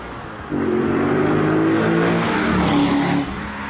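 A Corvette sports car roars past nearby, its engine note swelling loud and throaty, then fading as it moves away.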